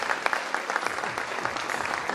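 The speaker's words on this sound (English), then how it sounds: "Parents, give them a big round of applause." Parents applaud the children at a school annual prize distribution, a full room of steady clapping with a faint crowd murmur, even and sustained from start to finish.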